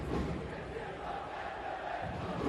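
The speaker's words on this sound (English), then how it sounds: "Cheering their team on." A large crowd at a LAFC versus Sporting KC football match cheers its team on as a dense, continuous roar of many voices, loud and unbroken throughout.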